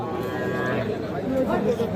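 A young heifer calf at a cattle market lows among livestock, the moo surfacing briefly amid crowd chatter and nearby voices.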